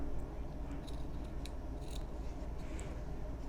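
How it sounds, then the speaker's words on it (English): Scissors cut through quilt fabric close up, a series of soft crisp snips spaced unevenly over a steady low background hum. "to go ahead and use my scissors."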